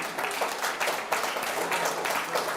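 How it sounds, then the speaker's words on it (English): A crowd applauds, a dense wash of many hands clapping at once, steady and fairly close throughout. "What are they clapping about?"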